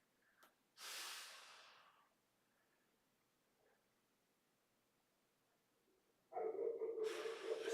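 A dog snorts and huffs while moving around an indoor room, with two separate bursts of breathy noise: a short one early on and a longer, stronger one at the end, with quiet between them.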